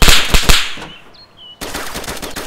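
Gunfire in DayZ: a loud burst of rapid shots, a brief lull with a faint whizz, then another sustained rapid volley of automatic fire.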